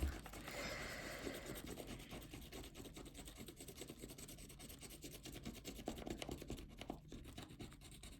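A scratch-off lottery ticket being scratched, a quiet continuous rasping and scraping with rapid short strokes, close up and without talking.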